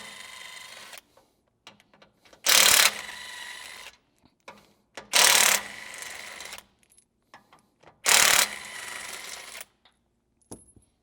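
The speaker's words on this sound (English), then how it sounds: "We're going to do that with a 17mm socket or end wrench. And all we have to do is remove these 4 bolts right here." A 17mm socket wrench works the receiver hitch bolts on a Toyota 4Runner, with three loud, buzzing mechanical bursts of about a second each, separated by quiet stretches with faint clicks and knocks.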